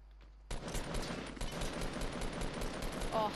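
Loud, sustained rapid gunfire from a video game starts abruptly after a brief quiet lead-in and rattles on in dense bursts until the end.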